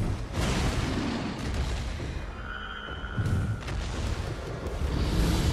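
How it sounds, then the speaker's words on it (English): A spear bomb in the video game Wild Hearts goes off with a deep, rumbling boom, a loud blast of noise that fades, then swells again, with no talk over it. "Incoming, spear bomb."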